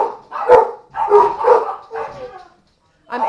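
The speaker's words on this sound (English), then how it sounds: "because the dogs are going nuts" Several dogs bark and yelp in a home kitchen during cooking, coming in loud repeated bursts over about three seconds with a short gap before another starts.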